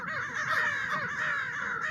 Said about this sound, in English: I heard a call by a crow.